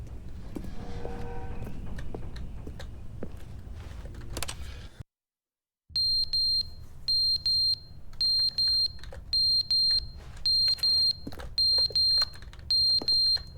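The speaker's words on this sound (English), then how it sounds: "The alarm's going off." A video game alarm beeps in a steady repeating pattern, high piercing tones in evenly spaced bursts after a brief silence, loud and alone.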